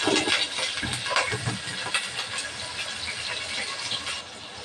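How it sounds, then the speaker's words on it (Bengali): Cleaned prawns hit hot oil for frying, giving a loud, steady sizzling hiss that fills the whole stretch with no talking. "তেল গরম হয়ে গেছে, দিয়ে দেবো মাছ"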